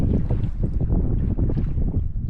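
Heavy, constant sea wind buffeting the microphone in a low roar aboard a fishing boat, with boat engine or water rumble underneath, loud and close.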